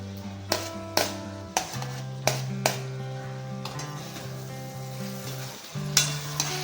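Potatoes sizzle with tomatoes in a pan for fish curry, a steady frying hiss broken by sharp stirring knocks and scrapes, while sustained music tones run underneath.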